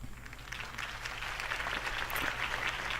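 A crowd in the video game Batman: The Telltale Series claps continuously in a dense, even patter of applause, moderately loud and building slightly, with a low hum beneath.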